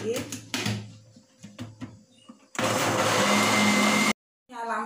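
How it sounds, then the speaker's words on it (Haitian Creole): A kitchen blender whirring through corn and milk for a corn cream: steady loud motor roar lasting over a second, then an abrupt stop, with a voice speaking before it starts and again after. "Qu'on y a, nous allons blender."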